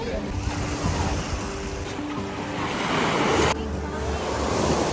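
Surf rolls steadily onto a wide beach in Thailand, a continuous close roar of breaking waves mixed with gusty wind buffeting the microphone.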